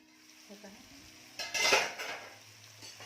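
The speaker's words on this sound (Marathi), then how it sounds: "एक अर्धा मिनिट झाकून ठेवूयात म्हणजे टोमॅटो छान विरघळेल।" A lid is set over a pan of Malvani-style egg curry with tomatoes cooking, a short metallic clatter after a quiet moment, followed by faint low simmering.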